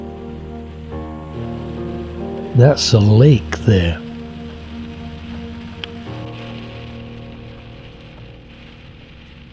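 Steady rain patters on a surface while driving over a mountain pass in Norway, a soft continuous wash under a low engine hum, with a brief stretch of talk in the middle.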